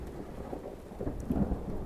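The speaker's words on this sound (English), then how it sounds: "we're having a thunderstorm right now" Thunderstorm outdoors: low, broad rumbles of thunder rolling continuously with a steady hiss of rain underneath, growing somewhat louder in the second half, with no voices.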